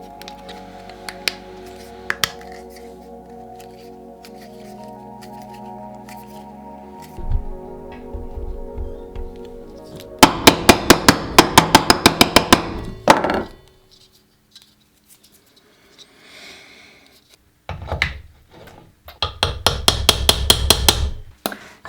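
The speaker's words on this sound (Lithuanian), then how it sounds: "guoliam negerai, kai tu plaktuku jį kali" Metal hammer blows on a bearing fitted to a cheap second-hand drill press, struck in dense bursts of sharp close clangs around the middle and end, with quieter mechanical rattling and scraping between.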